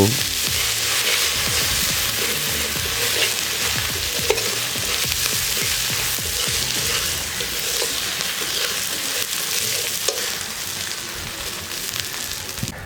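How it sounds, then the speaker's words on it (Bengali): Spices with dried red chili powder and turmeric powder fry and get stirred in a pan for a Bengali kalai dal with prawns, a steady close sizzle broken by frequent scraping stirs. "এবারে সবকিছুকে ভালো মতন মিশিয়ে নিয়ে কিছুক্ষণ কষিয়ে নেব"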